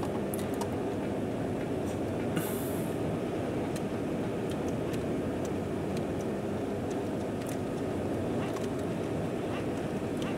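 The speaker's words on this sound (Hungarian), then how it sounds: "elindult nélkülem a szerelvény" Train rolling away in the video game Chaser, a steady loud rumble with continuous low-end roar and occasional metallic clanks and squeals over it, sustained without pause.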